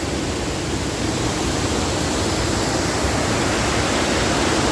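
A waterfall roars steadily and loudly, a dense unbroken rush of water filling the whole space with no pauses.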